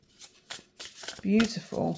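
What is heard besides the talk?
hand shuffling an oracle card deck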